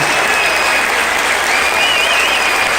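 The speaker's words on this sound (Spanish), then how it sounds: "os pido un aplauso para él" Loud, steady applause from a large crowd at a circus-themed parade, dense clapping filling the whole stretch with no pauses.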